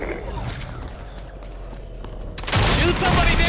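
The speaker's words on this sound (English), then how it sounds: "Shoot somebody, Derek!" Rapid gunfire from Fortnite gameplay rattles through a busy game mix, with bursts of shots mostly in the final second, set against background game noise.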